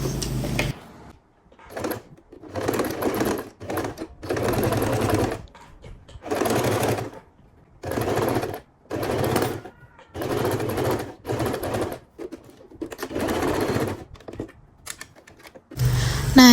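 A sewing machine stitches a straight seam on men's trousers at the back pocket, running in about ten short rattling bursts separated by brief pauses.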